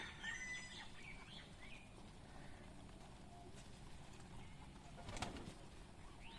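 Pigeons at a pigeon-keeping loft in Shibganj, Chapainawabganj, Bangladesh, with Rajshahi giribaz, racers and black homers, give soft, low cooing mixed with brief chirps against quiet background noise.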